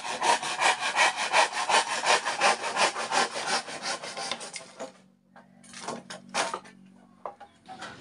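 A hand saw cuts through wood in rapid, even back-and-forth strokes, loud and close, then pauses and resumes with a few slower strokes before stopping.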